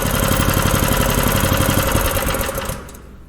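A small pull-start engine runs right after its first pull, with a loud, close, fast rattling drone that holds steady and then cuts out near the end.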